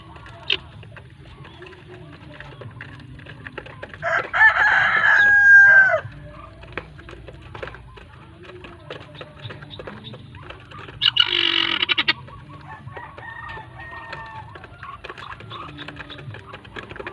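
Muscovy ducks and ducklings in a backyard pen, with a continuous low chatter of birds and two louder bursts of squawking calls standing out over the background.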